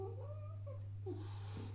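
A domestic cat named Ralph gives a low, tense caterwauling growl at another cat, Bianca, followed by a breathy hiss, faint against a steady electrical hum.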